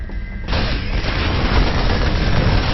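A Zerg base being destroyed in StarCraft, a loud sustained rumble of explosions and boom blasts that kicks in sharply and keeps rolling without letting up.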